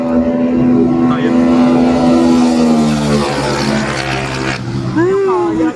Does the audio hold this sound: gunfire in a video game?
no